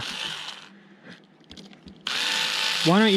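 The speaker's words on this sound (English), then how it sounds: "We're just going to take our drill, and we're going to pre-drill those servo holes." A power drill pre-drills servo holes in a T-6A model airplane, whirring steadily for about a second, pausing amid faint clatter, then running again with a rising whine as it speeds up.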